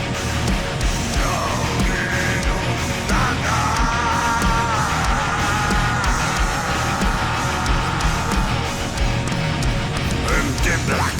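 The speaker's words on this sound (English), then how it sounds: "Oh yeah, the screaming echoes." Echoing screams within a dense metal album track, loud yelled vocals over a constant wall of distorted guitars and drums.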